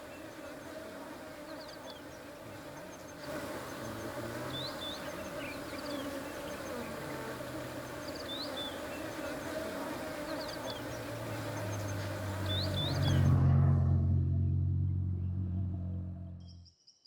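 A dense, steady swarm of bees hums continuously, with a deep rumble swelling near the end before the sound cuts off abruptly.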